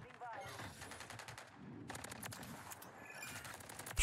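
Rapid bursts of gunfire from Modern Warfare 3 as bots are shot in a practice match, with repeated automatic volleys and short pauses between them, loud and close.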